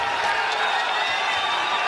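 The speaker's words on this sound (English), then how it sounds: "The crowd reacts to Kevin Randleman's aggressiveness." A UFC 20 arena crowd roars steadily, a dense, continuous wall of cheering and applause with no pause, reacting to an aggressive fighter.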